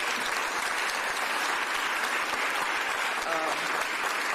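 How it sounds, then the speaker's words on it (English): An audience at a city press conference on a tentative labor agreement gives a sustained round of applause, dense and even, filling the room at a fairly distant, moderate level with a brief voice surfacing near the end. "Give her a round of applause."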